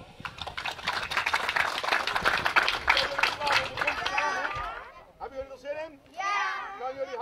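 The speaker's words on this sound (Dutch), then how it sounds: "nogmaals een applaus voor jullie dorp" A crowd of villagers claps steadily in applause at the outdoor opening of a landscape park, the clapping dense and sustained before tapering off as voices and cheers take over near the end.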